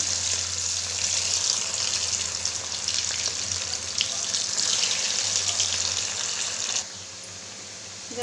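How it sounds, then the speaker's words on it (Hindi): Boiled potatoes sizzle and crackle steadily in hot oil, a bright hissing frying sound heard up close that drops quieter near the end. "अभी इसमें हम ये उबला हुआ आलू डालेंगे और फ्राई करेंगे"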